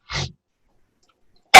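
A man sneezes twice during a roundtable film discussion, once at the start and once more sharply at the end, both close and loud with silence between them.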